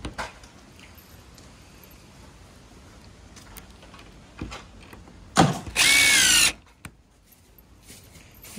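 Power drill driving screws into a gate frame, a quiet background punctuated by one short loud whir lasting about a second, with a few faint knocks and handling noises around it.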